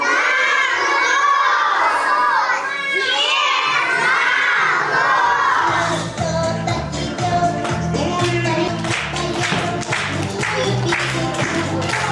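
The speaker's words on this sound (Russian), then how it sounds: "Хорошо, все кричим громко." A crowd of children at a kindergarten New Year party shouts loudly in unison, long sustained cries that give way to festive music with cheering still going over it.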